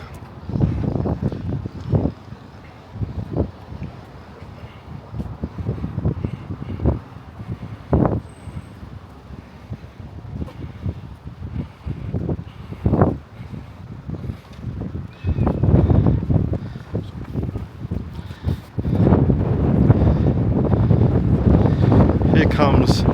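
Wind blows along the Bognor Regis seafront, making a steady low rumble and buffeting against the microphone that grows stronger toward the end.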